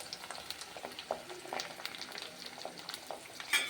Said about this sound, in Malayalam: അതൊന്ന് ഇളക്കി കൊടുക്കുക.